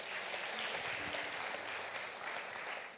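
A church congregation applauds during a sermon: a broad, steady wash of clapping that fills the room at moderate loudness and continues evenly throughout.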